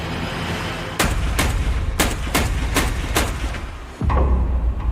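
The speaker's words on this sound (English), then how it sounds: "I just had about 9 gunshots back behind my building." Rapid series of about six or seven sharp gunshots cracking out behind a city building, evenly spaced over a few seconds and ringing against walls, followed by a heavier thud, with no one speaking.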